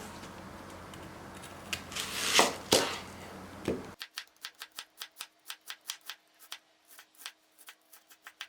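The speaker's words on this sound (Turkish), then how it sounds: "Ben burada soğanımı savursamı doğrayacağım" An onion is chopped with a knife on a board in a home kitchen, a run of crisp, evenly spaced close cuts following a brief rustle of handling.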